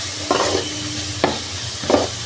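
Onions frying in a pan and stirred now and then: a constant low sizzle broken by three distinct scraping stirs spaced about a second apart, close and moderately loud.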